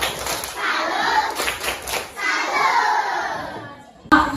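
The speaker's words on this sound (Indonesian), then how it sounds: "Beri tepuk salut dulu untuk Delima." A class of second-grade primary school children clapping together in a classroom, a dense rhythmic patter of hands with some shouting voices, lasting several seconds before breaking off into a brief pause.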